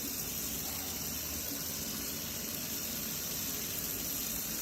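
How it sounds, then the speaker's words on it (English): A steady, continuous stream of water pours from a tap, a constant hissing gush that holds level and unbroken throughout with no pauses. "You cannot break the stream of water."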